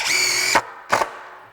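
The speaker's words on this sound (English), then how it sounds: "I'm just going to drive some simple screws in here as if you were doing a deck" A compact impact driver on speed level 3 drives screws into wood, whirring at high pitch for half a second, then two short bursts follow, sharp and close with no voices.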